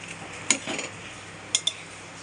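Cooked soybean curry stirred in a pot with a metal spoon: a few faint, sharp clinks of spoon against the pot spaced apart, with soft scraping in between in a quiet kitchen.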